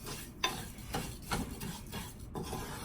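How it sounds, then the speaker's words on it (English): White rice stirred in oil in a pot while cooking, a close, quiet series of scraping and rubbing spoon strokes against the pot with a faint sizzle beneath, several distinct strokes in loose rhythm and no speech. "I'm just going to stir it all. Let it all get oiled up."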